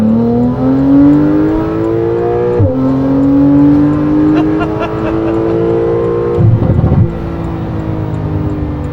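Porsche 991.2 911 Carrera with a stage 2 exhaust roars close and loud, its engine climbing steadily in pitch, then dropping with a crackle before revving again.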